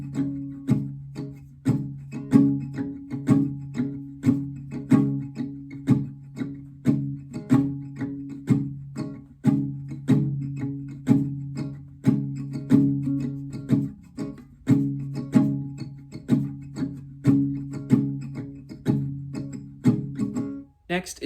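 Acoustic guitar strumming the first verse of the song, steady rhythmic strokes with a palm-muted, slightly muffled feel, close and even throughout with no talking.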